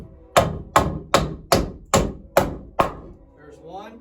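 Hammer blows driving a nail into a wooden ceiling joist, seven sharp, evenly spaced strikes close by, then a short quieter stretch with faint movement.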